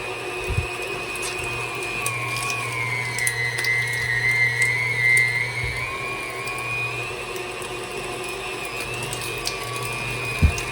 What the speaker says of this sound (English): Make sure you grind it all.